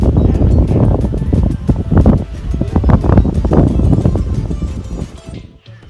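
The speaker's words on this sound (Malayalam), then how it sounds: "നല്ല തണുത്ത കാറ്റ്" Strong, gusty cold wind buffets the microphone in loud rumbling bursts near a dam in Valparai, fluctuating throughout before easing off abruptly at the end.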